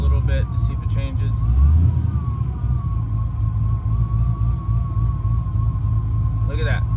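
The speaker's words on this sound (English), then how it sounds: "Maybe I'm gonna give it some throttle just a little bit to see if it changes." Pontiac GTO engine at idle, a steady low rumble with a slight throttle blip early on, with a person talking briefly over it.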